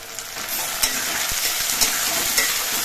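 Tomato frying with onions in a hot pan makes a loud, steady sizzle close up, broken by a few soft scrapes and knocks from stirring, with no voices.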